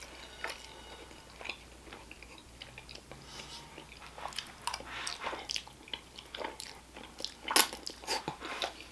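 Close, quiet chewing of cheeseburger lo mein: soft wet squishes and crunchy bites repeat irregularly, with no talking.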